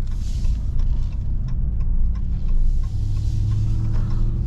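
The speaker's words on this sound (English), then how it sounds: "you can hear that supercharger whine" A 2021 Ram 1500 TRX pickup with a supercharged 6.2L V8 driving along, a loud steady engine rumble and road drone inside the cab with a faint high whine riding above it.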